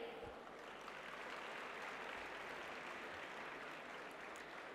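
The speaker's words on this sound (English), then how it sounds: "तालियों के ठहाके खत्म नहीं होने चाहिए।" Sustained applause from an audience at a technical session, a dense, even wash of many hands clapping throughout, steady and moderately distant with no voices over it.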